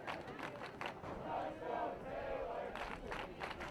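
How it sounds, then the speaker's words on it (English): A crowd murmurs and cheers at a women's college soccer match, Cincinnati Christian at Taylor, as a steady, fairly distant wash of voices with a few louder swells. "A lively crowd has filled the joint tonight."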